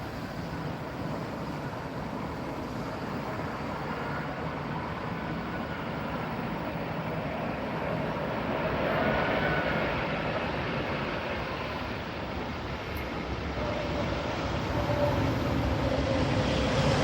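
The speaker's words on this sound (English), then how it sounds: "I'll be quiet and let you enjoy this engine noise." An airliner landing on runway 27R at Heathrow Airport produces a continuous broad engine roar that swells gradually and holds steady, heard from a moderate distance with no voices.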